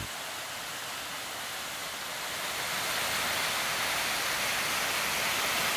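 The Pont de Fer mountain torrent, draining Lac Faravel, rushes in a dense, steady, broadband roar that swells slightly louder as it goes on, with no voices over it.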